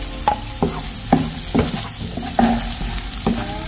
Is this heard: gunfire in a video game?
no